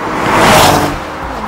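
A Cadillac ATS-V sports sedan sweeps past close by, its engine note and tire rush swelling to a loud peak and then fading quickly in a short pass-by.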